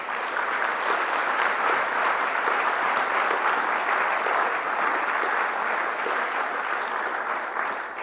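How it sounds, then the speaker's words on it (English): Spontaneous applause from a conference audience, a sustained even wash of many hands clapping, fairly loud and unbroken for several seconds. "I was just about to invite a round of applause for Mairi, but it was spontaneous."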